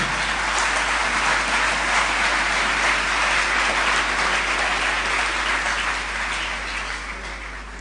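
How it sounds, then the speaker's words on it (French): Students at an international Bible camp clap for themselves, a loud sustained wash of applause from a large group filling the room, fading slightly toward the end. "Clap for yourself"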